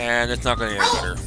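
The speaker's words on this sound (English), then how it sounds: "That is Dusty. He is my Rhodesian Ridgeback Blackmouth Cur mix." A Rhodesian Ridgeback Blackmouth Cur mix dog gives a few yipping, whimpering barks close by, mixed in with someone talking over it.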